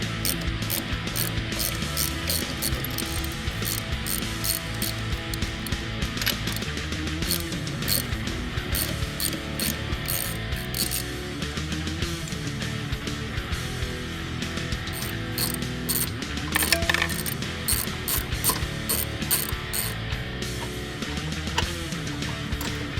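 A hand ratchet clicks repeatedly while removing the passenger-side motor mount nuts on a 2016-2018 Ford Focus RS, with steady dense ratcheting throughout and a few louder metallic bursts, no talk.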